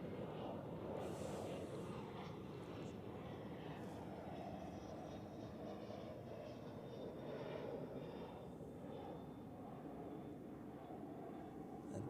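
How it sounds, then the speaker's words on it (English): A Cessna Citation business jet landing at Zurich Airport, its engine roar steady and moderately distant, a continuous broadband rumble that holds throughout with no talk over it. "That is a Cessna Citation, I think, just based on the looks."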